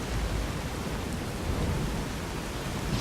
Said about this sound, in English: it's a hell of a rainstorm